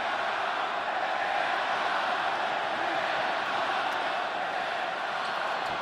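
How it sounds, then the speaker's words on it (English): Loud, roaring arena crowd at a professional wrestling show, sustained cheering and noise filling the whole stretch without a break. "Certainly a vociferous crowd here tonight."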